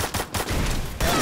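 Rapid gunfire from the video game Free Fire, a dense burst of shots with a short pause, then a fresh volley at the end, moderately loud.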